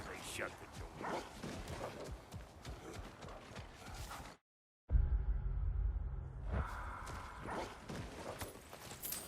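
Several dogs bark and yelp in the video game God of War Ragnarök, fairly close, mixed with clopping and other game sounds; a brief dropout breaks the clip midway, followed by a low rumble.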